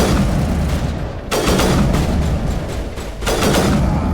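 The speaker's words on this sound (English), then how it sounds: "It's just better with the sniper. Oh, God, this thing shoots like 3 times." Sniper rifle firing in the Mass Effect video game, with two loud broadband blasts about two seconds apart, each trailing into a dense roar and sitting over constant heavy background noise.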